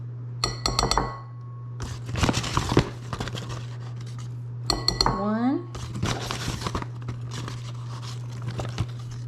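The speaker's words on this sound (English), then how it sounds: "I've got a ½ cup measuring cup here, so we're going to go, there's a half." All-purpose flour is scooped with a half-cup measuring cup for homemade chicken and dumplings, giving bursts of glassy clinks, taps and soft rustling with short pauses between scoops.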